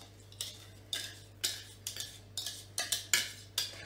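Spoon clinks and scrapes against a bowl as a cooled banana, butter and sugar mixture is poured in: about nine sharp, evenly spaced taps, close and clear, with a faint steady hum beneath.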